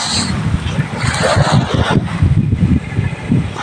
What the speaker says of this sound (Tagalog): Lakas na nga hangin